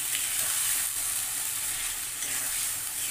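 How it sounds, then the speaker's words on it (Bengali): Meat curry being sautéed and stirred in a pan makes a continuous close hiss and sizzle with a soft scraping texture, steady throughout and without voices. "আগে ভালো করে কষিয়ে নেবো"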